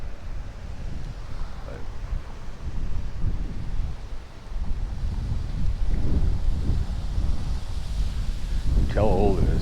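Wind buffets the microphone on a pedestrian bridge over a highway on a hot day, a steady low rumbling roar that swells midway, with a person talking briefly near the end.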